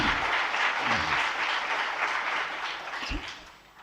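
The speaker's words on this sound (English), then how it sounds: "Can we have a round of applause for both of them?" A corporate quiz finals audience applauds the contestants with sustained dense clapping that tapers off toward the end, with a faint voice and thump partway through.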